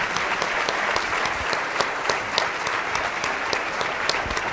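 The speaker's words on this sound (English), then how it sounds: "everyone in the group can join me in a great round of applause for this really excellent panel" A seated audience at a climate change panel session gives sustained, even applause, a dense wash of clapping that holds steady at moderate loudness with no talk over it.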